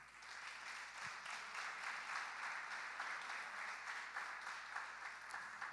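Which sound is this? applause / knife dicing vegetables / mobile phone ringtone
applause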